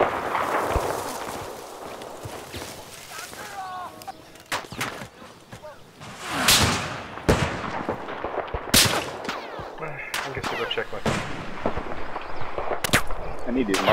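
Explosions and gunfire from a UCAV drone strike in Battlefield 4's Operation Mortar map: repeated sharp loud blasts and bursts spread across the scene, with a voice talking intermittently between them.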